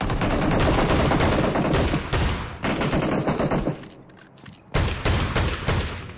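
Dense, loud bursts of gunfire from the mobile shooter PUBG Mobile, including shotgun blasts, in rapid overlapping volleys with brief gaps, players talking over it.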